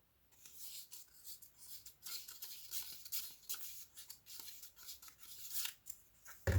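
Scissors trimming paper for a mixed media collage, a series of quiet close crisp snips and paper rustles at an uneven pace, ending in a louder handling thump.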